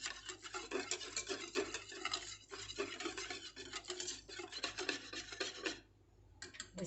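Boiled yogurt-and-milk mixture for kadi being pushed through a strainer, a steady soft scraping and rubbing that is quiet and close, stopping briefly before resuming.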